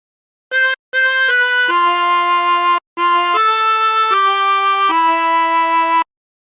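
Chromatic harmonica plays a phrase of How Great Thou Art, two short blown notes followed by longer sustained tones, clean and close, with no one speaking.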